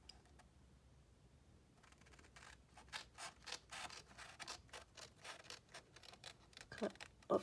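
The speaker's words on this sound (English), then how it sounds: "take some scissors, cut up on this score line" Scissors cut up a score line in paper for flat mail, giving a quiet run of small rapid snips and crisp crackles after a hushed start, close but soft, with no talking.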